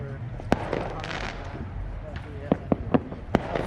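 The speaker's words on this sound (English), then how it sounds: "for Fireworks is happening." Fourth of July fireworks boom and crack in the distance over the Mississippi River, several sharp isolated bangs spaced irregularly, with a voice talking faintly in the background.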